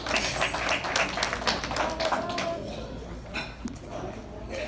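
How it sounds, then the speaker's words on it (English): An audience claps for an award honoree at an Italian charities event, with a burst of dense applause that thins out into scattered claps, while a voice speaks over it. "He really deserves an applaud"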